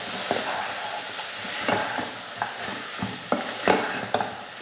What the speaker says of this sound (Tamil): உப்பு போடாமல் இதை வதக்கி விட்டுறலாம்.